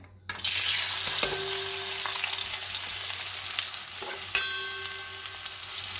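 Potatoes fry in a pan with a steady, loud sizzle that starts suddenly and holds for several seconds, punctuated by a couple of sharp clinks of a utensil, with no voices.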